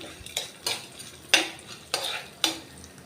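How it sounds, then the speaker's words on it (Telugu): Urad dal, mustard seeds and cumin fry in oil for a bitter gourd fry, with a soft sizzle and about five sharp scraping strokes of a spoon against the pan, close and clear. "1 స్పూన్ మినపప్పు, 1 స్పూన్ ఆవాలు, కొద్దిగా జీలకర్ర, వీటిని కొంచెం వేగనిద్దాం"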